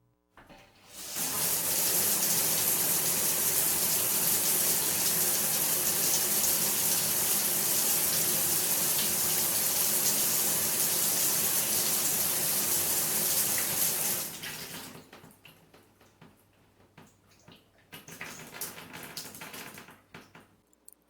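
Shower water gushes steadily and loud for about thirteen seconds as a hissing spray, then stops abruptly, leaving faint drips and small knocks; no speech.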